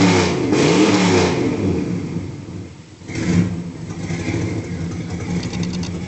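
A 1970 Chrysler New Yorker with a 440 engine and an exhaust leak revs loudly and close, a rising blip that dips briefly before revving again and settling into a rough, raspy idle.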